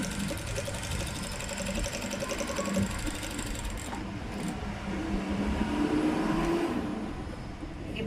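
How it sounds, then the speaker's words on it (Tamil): A sewing machine runs steadily, stitching the lining of a blouse with a continuous close whirring hum that holds at an even level throughout. "ஒரே அளவாக தைச்சிட்டு இதுக்கு ஒரு படிவு தையல் போடுங்க"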